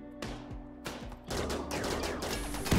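Gunfire aimed at a mortar in the colony game Rimworld, with a few sharp shots early on, then a dense, sustained crackling volley that builds to a louder burst at the end.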